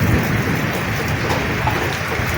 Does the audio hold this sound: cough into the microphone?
no